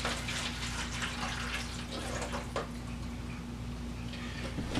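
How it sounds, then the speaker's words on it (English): Liquid injection marinade pours steadily into the bottom of a roast pan holding a smoked sirloin tip roast, a continuous close splashing trickle that runs for several seconds without talk over it. "now we're going to pour the rest in the bottom"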